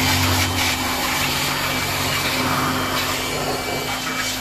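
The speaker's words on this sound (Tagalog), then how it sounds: "Ikutan na natin to ng blower" Steady blower roaring close by while a Yamaha Mio Amore scooter is detailed, a constant broadband rush with a low hum beneath, running unbroken with no voices.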